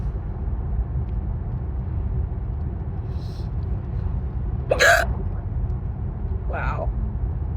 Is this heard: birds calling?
no